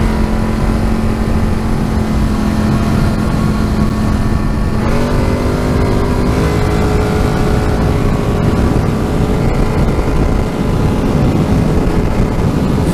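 A 2014 Polaris Scrambler 850 ATV runs off-road at speed, its engine a loud continuous close drone with wind roar, the pitch stepping up partway through as it accelerates, no voices.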